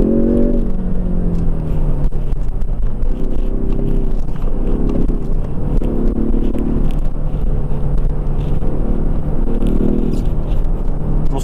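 A two-litre Kia Stinger on summer tyres drives along a road, its engine humming low and rising in repeated surges under steady road and cabin noise, with no talk.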